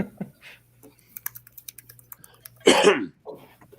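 Computer keyboard typing at a fast pace, a run of light, evenly spaced key clicks against a low hum, followed by a louder burst of rustling or throat noise.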